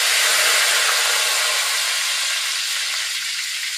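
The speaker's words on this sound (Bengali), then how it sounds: "জিরাটা ভাজা ভাজা হয়ে গেল, এর মধ্যে এই তেজপাতা দিয়ে দেবো।" Cumin seeds and bay leaf sizzling in hot oil in a home kitchen pan, a steady, loud, bright hiss that runs unbroken and close throughout.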